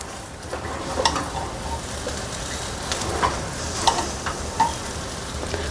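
Spiced Maharashtrian masale bhat rice is stirred in a cooker, with a handful of sharp scrapes and knocks of the spoon at uneven intervals over a soft, steady sizzle.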